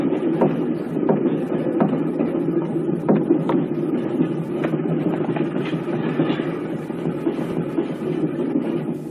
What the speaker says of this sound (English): Argoman's on the Cali-Paris train